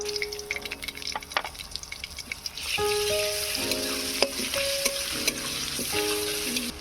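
Greens sizzle and fry in mustard oil with dried red chillies and garlic paste, a steady crackling hiss that swells louder midway, with stirring scrapes and sharp utensil clinks throughout.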